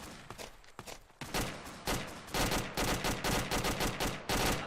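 A PK machine gun fires sustained bursts of rapid gunshots with short gaps between them, loud and dense throughout.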